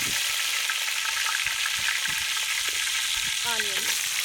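Cumin seeds sizzling in hot oil for a village-style Chettinad tamarind chicken curry, a loud, steady, close frying hiss throughout, with faint stirring knocks and a brief tonal squeak near the end.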